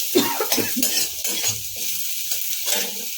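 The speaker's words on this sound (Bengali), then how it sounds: "আমার পেঁয়াজটা মোটামুটি ভাজা হয়ে এসছে আর দু চারবার নেড়ে নেব" Onions frying in a pan for a spinach tarka are stirred with a utensil, giving a steady sizzle with several scraping strokes and a few clinks, all fairly close and with no talk.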